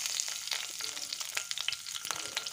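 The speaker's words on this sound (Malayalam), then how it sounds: "അതിനുശേഷം ഞാൻ കുറച്ച് കറിവേപ്പില ഇങ്ങനെ ഇട്ട് കൊടുക്കുന്നുണ്ട്." Curry leaves sizzling in hot coconut oil in a pan, ready for frying mackerel, with a steady, close, crackling sizzle and bright spitting pops and no talk.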